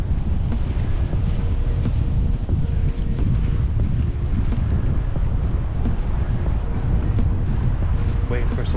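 Wind blowing at Ocean Beach, San Diego, a steady loud roar buffeting the microphone without a break, with faint surf beneath and a voice speaking over it.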